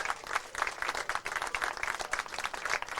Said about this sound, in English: Guys wrapped up in the clapping